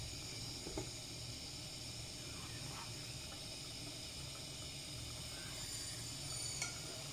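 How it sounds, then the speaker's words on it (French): A pot of boiling broth for Cameroonian-style fried rice, its steady bubbling and hiss faint and continuous, with a few soft stirring clinks scattered through. "Une fois que ça bout, je vais remuer et vérifier l'assaisonnement."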